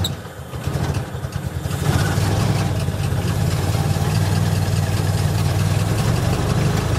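A 1924 Model T Ford truck engine cranks over and catches at about two seconds, then settles into a loud, steady, rumbling idle close by with no talking.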